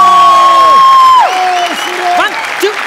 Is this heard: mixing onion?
no